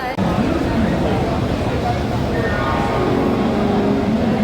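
The Amritsar Mail train rumbles and screeches as it pulls into a station, with steady low rail noise, squealing brakes and a crowd murmuring nearby.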